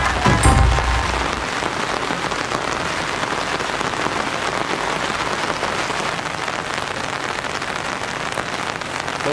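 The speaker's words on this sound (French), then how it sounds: "Je pense qu'on peut dire que la pluie n'arrête pas Koi Hunter" Rain falls steadily and close by, a dense hiss of drops striking surfaces, with a brief louder thud at the start and no talk.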